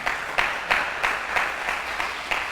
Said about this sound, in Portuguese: Tem alguém para dar um aplauso a Jesus por isso?